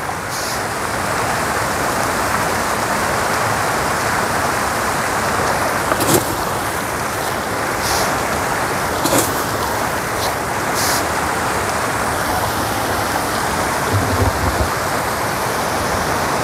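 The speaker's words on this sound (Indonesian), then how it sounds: "Tuh debit arusnya." A strong current of water gushes into a pomfret fish pond in a loud, continuous, close-up rush with a few faint knocks on top.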